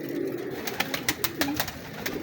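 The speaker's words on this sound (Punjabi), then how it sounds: "ਇਹ ਜੈਨਮਨ ਫਰਾਂਸਾ ਕਬੂਤਰ।" A Jainman French pigeon coos in a low, soft rolling tone, with a few sharper clicks and flutters over a steady background hiss, close by.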